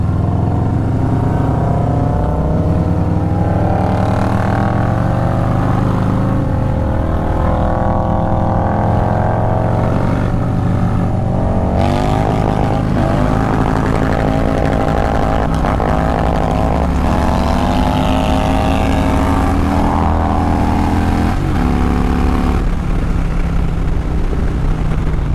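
A Harley Stage 4 upgraded bagger motorcycle engine running loud and close for the whole stretch, a heavy continuous rumble with shifting revs and no pauses; no talking.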